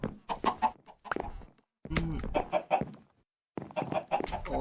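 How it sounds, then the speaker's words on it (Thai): Free-range chickens roaming around a house cluck loudly and close by in rapid, choppy bursts, broken by a couple of short silent gaps. "โอ้ผมคิดว่าคุณเลี้ยงไก่แบบปล่อยไว้ทั่วบ้านเลยเหรอ"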